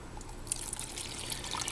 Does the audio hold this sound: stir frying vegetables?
no